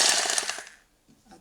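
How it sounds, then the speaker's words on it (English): Rotary hammer drill running in hammer-drilling mode, a loud rapid rattling burst lasting under a second before cutting off, followed by faint handling noise. "Here in this model, you'll see here is hammering while drilling."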